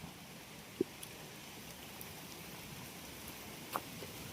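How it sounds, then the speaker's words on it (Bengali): Night rain falls in a faint, steady hiss with a couple of soft isolated drips, and no voices are heard. "রাতে বৃষ্টি পড়ছে"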